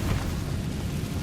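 An Incendio fire spell cast in the video game Hogwarts Legacy on PS5: a loud, dense whooshing roar of flame that rumbles steadily through the whole short moment, with no voices over it.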